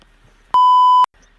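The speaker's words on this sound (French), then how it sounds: "je vais biper toute la séquence d'avant" A single loud, steady censor bleep lasting about half a second, cutting in sharply over near silence and stopping abruptly.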